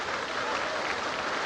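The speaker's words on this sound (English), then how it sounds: "the orchestra's applauding him too" Applause from an orchestra at a concert, a dense, continuous wash of clapping filling the whole short span without pauses.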